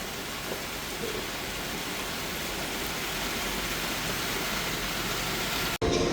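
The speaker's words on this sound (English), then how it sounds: "It's been raining all day." Steady rain falls all afternoon in Florida at Universal, a dense continuous hiss close by and unbroken, with no voices, ending in a brief cut.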